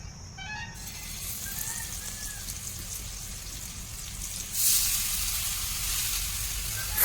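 Spiced pineapple pieces fry in oil on a hot griddle, giving a continuous rain-like crackling hiss that swells louder partway through and then holds steady.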